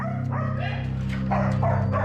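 Many dogs barking together in a shelter kennel, a steady overlapping chorus of barks and yips over a constant low hum, fairly close and continuous.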